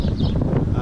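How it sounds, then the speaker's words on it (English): Strong wind blows across an open roadside near Antequera, a steady loud rumble that buffets the microphone with low gusty roar throughout, no voices. "It's quite windy. I guess you can hear that, how windy it is."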